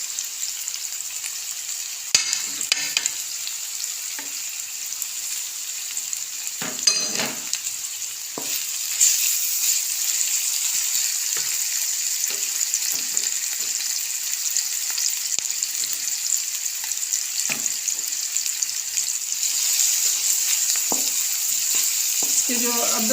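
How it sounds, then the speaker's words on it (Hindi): Garlic ginger paste sizzles and fries in a hot pan, a steady hiss throughout with occasional stirring scrapes and spatters. "अब हम लहसुन और अदरक का पेस्ट शामिल करने लगे हैं"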